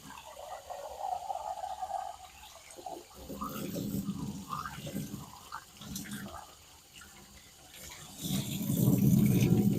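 Aquarium canister filter media rinsed under running water, a close splashing and trickling stream that rises and falls, swelling louder toward the end.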